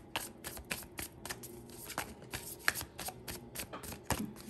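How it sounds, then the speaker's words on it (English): Tarot cards being shuffled by hand, a quiet, close riffling and slapping of cards in quick irregular bursts, with no talking. "Let's shuffle again."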